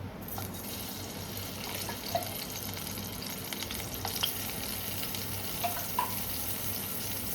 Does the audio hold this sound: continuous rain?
no